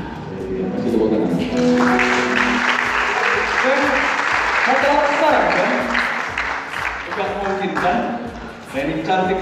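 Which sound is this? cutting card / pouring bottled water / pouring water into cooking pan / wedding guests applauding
wedding guests applauding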